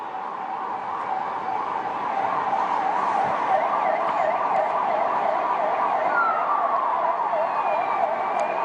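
A new ambulance's wailing siren sweeps up and down steadily and loudly at a launch event, with faint road and engine noise beneath and no talk.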